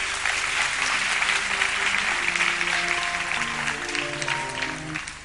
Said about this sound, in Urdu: تالیاں نہیں بجائیں گے آپ لوگ؟